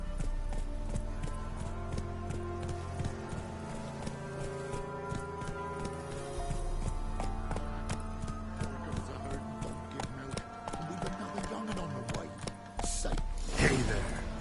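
Roach the horse gallops in The Witcher game, a fast rhythmic clip-clop of hooves running over a low musical hum, growing busier toward the end.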